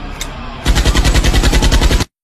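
AK-47 firing a rapid automatic burst of about a dozen loud, close shots in even rhythm, ending abruptly into silence after a quieter lead-in.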